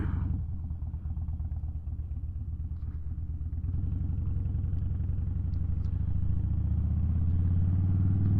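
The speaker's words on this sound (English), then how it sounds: "That exhaust on this bike actually sounds pretty good." Harley-Davidson Rocker C motorcycle idling after starting, its exhaust a steady, close, deep rumble with a low throbbing pulse that grows slightly louder and fuller toward the end, with no talk over it.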